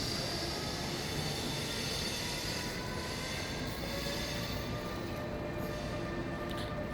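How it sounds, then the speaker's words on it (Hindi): A train bound for Malmö at Copenhagen Central Station, heard as a steady, loud rumble of rolling rail cars with faint wheel squeal throughout, without any talk. "और ये जो ट्रेन आप देख रहे हैं ये स्वीडन के लिए माल्मो।"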